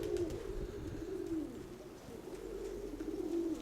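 Domestic pigeon, a 2020-ringed hen with a blue leg band, gives a continuous low, rolling coo that swells and dips close by, with no talking over it.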